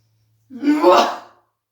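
A single sharp inhalation during a yoga breathing exercise, close and fairly loud, lasting under a second.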